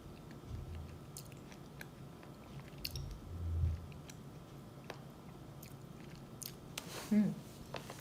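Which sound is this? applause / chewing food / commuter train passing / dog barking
chewing food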